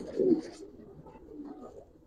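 A male Giribaz pigeon coos close by, with a fuller burst at the start trailing into softer, low murmuring coos.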